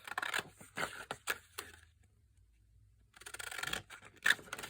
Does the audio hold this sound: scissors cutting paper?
yes